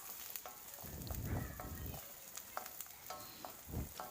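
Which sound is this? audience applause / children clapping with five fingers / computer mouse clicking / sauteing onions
sauteing onions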